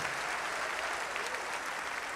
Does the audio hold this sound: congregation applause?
yes